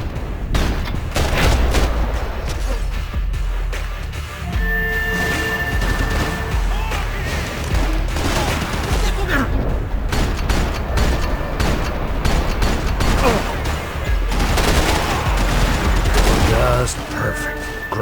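Grenade blasts and gunfire in Max Payne 3, a dense, continuous barrage of loud bangs, crashes and rapid shots across the whole stretch, with a voice talking over parts of it.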